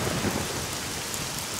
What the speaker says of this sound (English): the rain effect is pretty cool